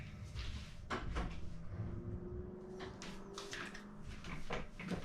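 A household door is opened for a cat, giving a soft wooden handling and creak-like shifting amid quiet room ambience, with a few faint knocks and rubbing sounds spread through the moment.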